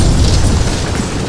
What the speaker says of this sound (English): The explosion shook the building.